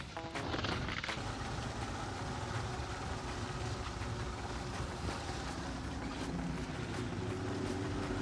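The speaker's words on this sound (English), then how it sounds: "So the engine is losing power." A fishing boat's engine drones steadily while running at sea, losing power, with constant broadband rumble and wind noise, loud and continuous throughout.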